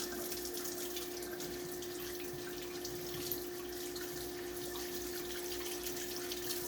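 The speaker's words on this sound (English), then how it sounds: "Get a little warm water." Warm water runs steadily from a kitchen tap, a constant faint hiss and splash with a faint tonal hum, no talk.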